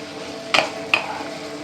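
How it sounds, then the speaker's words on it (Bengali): A utensil stirs shrimp and spices in a cooking pan for Digha-style prawn do-pyaza, giving two quick scraping clinks against the metal over a faint, steady background hiss. "এখন সব নাড়াবো।"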